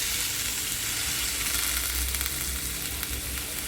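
Oil sizzling in a pan for frying onion for an egg chutney, a dense continuous hiss with faint crackles, close and steady throughout, no talk.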